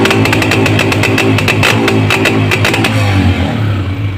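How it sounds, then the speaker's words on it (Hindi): A Honda CG125 Euro 2 motorcycle engine runs steadily at part throttle with an uneven, stuttering misfire, loud and close, its rhythm broken by repeated sharp dropouts. "ये मिसिंग आ रही है।"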